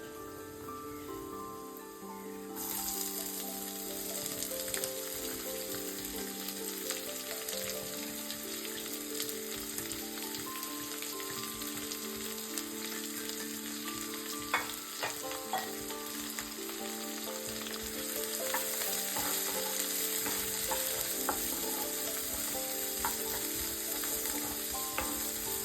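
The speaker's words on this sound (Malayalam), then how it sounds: "ഇതിലേക്ക് കാഷ്യൂനട്ടും ഇഞ്ചി, പച്ചമുളക് അത് ചേർത്തിട്ടൊന്ന് വഴറ്റി എടുക്കുകയാണ്" Cashews, ginger and green chili sautéing in a pan for upma made with leftover idiyappam, a long even crackling sizzle with intermittent stirring clicks and a faint high whine in the background.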